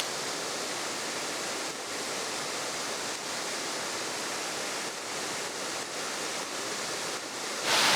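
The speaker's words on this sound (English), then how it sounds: "Kind of just a straight down waterfall into a pool." A tall waterfall dropping straight down into a pool, giving a constant, full hiss of falling water that stays even and unbroken, with no voices.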